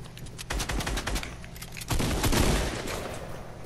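Rapid gunfire rattles in dense continuous bursts during a Fortnite match, loud and close, with a heavier volley in the second half.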